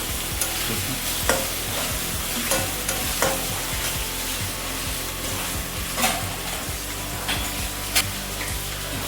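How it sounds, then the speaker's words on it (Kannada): Tomatoes frying in a hot pan while being stirred, a loud, steady sizzle punctuated by regular scraping knocks of the spoon. "ನೆಕ್ಸ್ಟು ಟೊಮೊಟೊ ಹಾಕೋಣ ಚೆನ್ನಾಗಿ ಫ್ರೈ ಮಾಡೋಣ"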